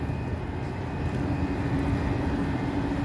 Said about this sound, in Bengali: এক ট্রেন আসতেছে, এক ট্রেন যাচ্ছে